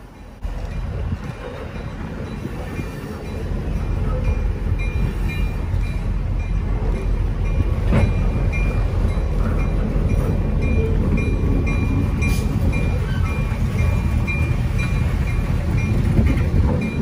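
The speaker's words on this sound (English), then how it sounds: "Something ultra rare for the Maritime Terminal siding, a four-car train." A four-car train rolls along the restored Maritime Terminal siding in New Bedford in snowy weather, giving a steady, loud low rumble that holds for the whole stretch, with faint squeals and clanks above it.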